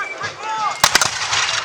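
Cannon fire at an 1812 battle reenactment at Fort George, with a direct shot into Brock's bastion: a sudden loud blast followed by several sharp cracks, set against a narrator's voice and outdoor ambience.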